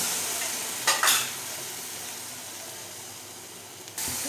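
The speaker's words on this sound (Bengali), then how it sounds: "এবার মশলাটাকে একটু সামান্য জল দিয়ে ভালো করে সামান্য জল দিয়ে ভালো করে কষিয়ে দেবো মশলাটাকে" Spice masala sizzles and fries in oil with a little water as a utensil stirs it in a pan, a steady hiss punctuated by a few scraping stirs, close up with no talking.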